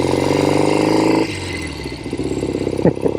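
A motorcycle with a chrome and red tank and a right-side shifter runs under the rider with a loud, close engine drone. The note drops as it shifts partway through, then it pulses on at lower revs.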